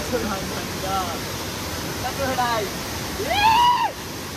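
Steady broad rushing of a jungle waterfall fills the background throughout, with people talking over it and one voice rising loudly near the end.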